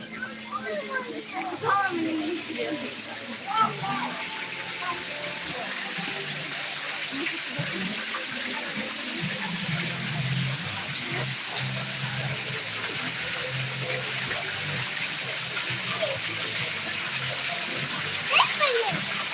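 A constant rush of falling water roars steadily throughout, with children's voices and chatter heard over it, especially at the start.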